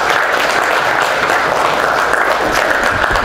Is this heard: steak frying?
no